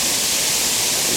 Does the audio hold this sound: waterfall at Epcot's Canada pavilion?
yes